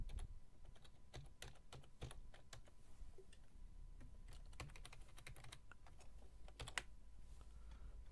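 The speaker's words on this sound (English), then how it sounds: "And type in your YouTube name, obviously." A name is typed on a computer keyboard while editing an intro template in Windows Live Movie Maker, with quiet, irregular clusters of key taps over a low hum and no speech.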